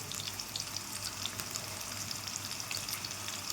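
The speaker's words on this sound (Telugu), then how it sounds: "తొందరగా ఆనియన్స్ అయితే ఫ్రై అయిపోతాయి" Onions and green chillies frying in a pan, a constant bright sizzle with faint crackles and light stirring, steady and close with no speech.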